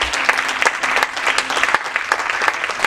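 A church congregation claps loudly and continuously, a dense burst of many hands with a few voices and cheers mixed in throughout.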